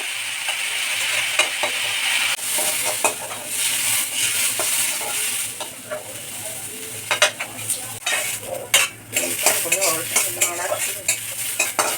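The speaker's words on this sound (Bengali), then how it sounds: "তেলের মধ্যে মুগ ডালটা দিয়ে দেবো। তো বন্ধুরা, এটা হালকা করে আমি ভেজে নেব।" Moong dal frying in hot oil for gandharaj dal while being stirred, giving a steady close sizzle broken by sharp scraping and clinking stirs that grow busier toward the end, with no talking.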